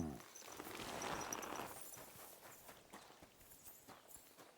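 A horse gallops in the medieval video game Kingdom Come: Deliverance II, with soft, faint hoofbeats in a steady running rhythm under hissy game ambience.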